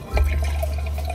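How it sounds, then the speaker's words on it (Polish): Pistachio milk is frothed for a sweet drink, with a steady low motorized whir under bubbling, sloshing liquid noise that runs close and loud throughout. "Okej, to teraz spieniamy mleko z pistacji."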